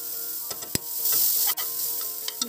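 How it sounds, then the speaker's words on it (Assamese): Grated carrots sizzle in hot ghee in a pan for carrot halwa, a steady close frying hiss with a few sharp stirring clicks and scrapes, no talking. "ঘিটো অকণমান গৰম কৰি লৈ গাজৰখিনি দি দিম।"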